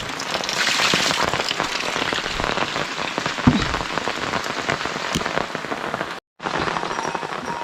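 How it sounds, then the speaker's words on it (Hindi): Heavy rain pours down hard and continuously, a dense close-up patter drumming on surfaces, briefly cutting out near the end before resuming. "जल्दी जल्दी क्योंकि बारिश लग रही है तेज"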